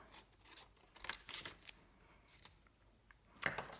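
Scissors snip through paper while cutting out a small coffee sign, giving quiet, close, irregular snips and rustles with brief pauses.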